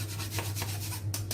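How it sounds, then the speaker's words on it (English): Butter being rubbed into flour by hand for rock buns, a soft continuous rasping and rustling with faint rhythmic strokes over a steady low hum, close and fairly quiet, with no talking. "rub in the butter until fine crumbs"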